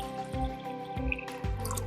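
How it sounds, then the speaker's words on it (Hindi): Dirty water is poured onto a homemade filter of cloth, cotton, sand and gravel, giving a few soft, evenly spaced drips over a steady tonal background, quiet and with no voices. "अब फिल्टर पर गंदा पानी डालिए।"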